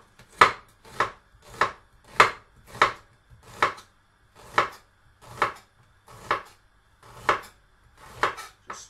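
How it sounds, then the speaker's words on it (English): A knife chops onions in a home kitchen while chicken curry and rice is being made, giving a steady run of about a dozen loud, crisp cuts that strike the board at even intervals, with no talk. "I'm no good at chopping onions whatsoever."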